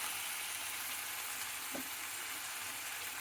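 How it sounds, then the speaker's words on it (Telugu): Onions and green chillies frying in a pan for aloo methi, a steady broadband sizzle that stays even and moderately quiet throughout, with a single brief stir or clink near the middle. "ఉల్లిపాయలు పచ్చిమిరపకాయలు వేసి వేయించుకొని"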